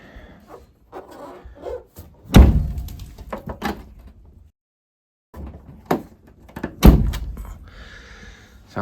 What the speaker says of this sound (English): Sound like a cabinet door closing.